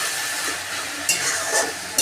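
Ash gourd is stirred and fried in a pan for a shukto with gandharaj lemon leaves, producing a close, brief sizzle with soft scraping stirs.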